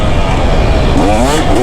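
KTM 250 SX two-stroke dirt bike, 2024 model, engine buzzing loud and close through a brief burst, its pitch rising toward the end as it revs.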